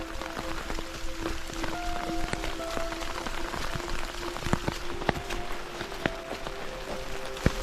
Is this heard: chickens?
no